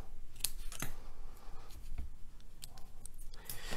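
Scissors snip excess cotton wick on a vape rebuildable dripping atomizer, a few crisp close cuts spread over a few seconds with quiet pauses between them and no voices.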